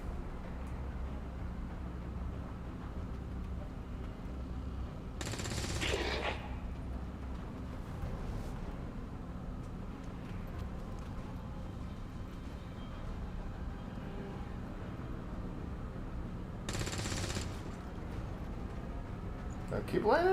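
Two sharp bursts of gunfire, spaced well apart, crack out in the turn-based tactics game XCOM 2 over a steady low rumble, while a person talks throughout.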